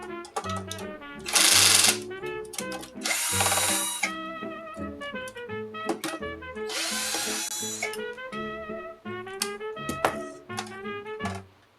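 A power drill drives screws into a vintage arcade circuit board in several short, loud whirring bursts separated by pauses, over a steady tonal hum in the background.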